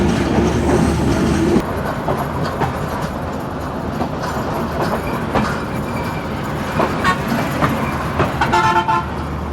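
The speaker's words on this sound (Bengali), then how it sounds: "আমাদের ট্রেন ঢুকতেছে বঙ্গবন্ধু সেতু পশ্চিম স্টেশনে" The Drutojan Express, a Bangladeshi train, rolls into Bangabandhu Bridge West station with a loud steady rumble of wheels on rails, then a series of horn toots rings out near the end.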